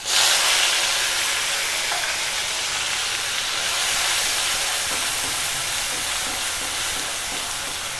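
Onion paste for Kozhikode vegetable biryani sizzles in a hot pan, a steady close hiss and crackle that holds evenly throughout with no talking.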